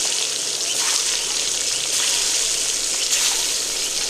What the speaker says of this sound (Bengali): তেলটা গরম হয়ে গেছে ডিমগুলো ছেড়ে দিচ্ছি একটা একটা করে